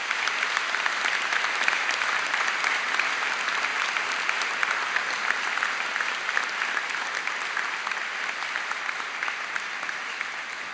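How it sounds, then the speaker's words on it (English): Graduates at a university summer graduation ceremony applaud their family and friends, a dense, steady roar of many hands clapping in a large hall that holds evenly for about ten seconds. "can I now ask our graduates to give your family and friends a round of applause to say thank you"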